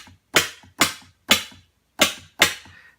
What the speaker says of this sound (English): So there's our burst of noise.